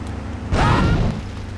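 A car explodes in the video game Grand Theft Auto III: a single deep, booming blast erupts after a brief lull, swelling for about half a second before settling back into a steady low hum.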